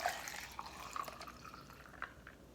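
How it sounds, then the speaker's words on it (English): A breakfast drink poured into a cup nearly full to the rim, giving soft uneven trickling and dripping with a few small splashes, close and fairly quiet, with no talking. "And now I'm gonna attempt to pour it."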